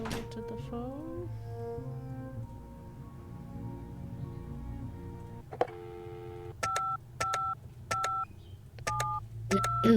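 A telephone being dialed in a video game, a run of short, distinct keypad tones pressed one after another, preceded by a stretch of background game music.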